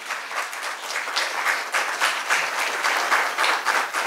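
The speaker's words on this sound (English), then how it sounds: "let's have a huge round of applause" An audience at a literary gathering in Goa applauds to welcome film director Rahul Rawail, a lively burst of many hands clapping with an uneven, rippling rhythm, close and fairly loud.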